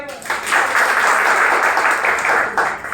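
A classroom audience of students claps together during a reasoning lesson, a dense, steady patter of hands that holds for about three seconds, close and fairly loud, with a teacher's voice mixed in.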